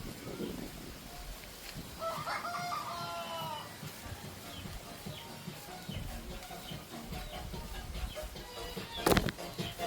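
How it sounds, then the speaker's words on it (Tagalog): Chickens cluck and a rooster calls from a rural yard in the Philippine provinces, moderately distant against a busy background with faint voices, plus a sharp louder burst near the end. "Hello, chicken."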